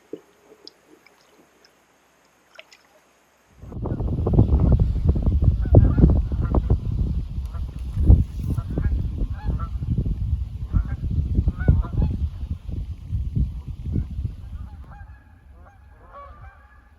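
After a quiet start, a large flock of Canada geese at the edge of a lake rice bed suddenly erupts into loud, overlapping honking mixed with splashing, carrying on and slowly fading.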